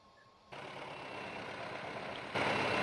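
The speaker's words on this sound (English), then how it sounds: "if I was to actually manage to start the engine again, there we go" A train locomotive engine in Train Simulator, Forge Simulations V10c, restarts after stalling and settles into a steady low idle, a quiet rumble that jumps up in level after half a second and again near the end.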